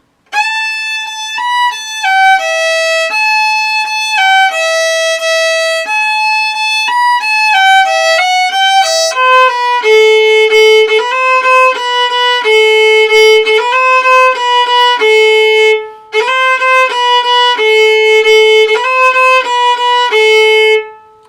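Solo violin playing the simple main tune of an improvisation piece, a bright melodic line of sustained and stepping notes, close and loud, with a brief pause before the phrase resumes.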